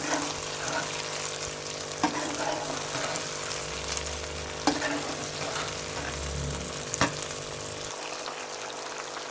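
A lemon, amla and chilli pickle is stirred and mixed in a pan with ground spices: a steady, dense wet scraping and sizzling texture, with a few sharper knocks of the spoon against the pan.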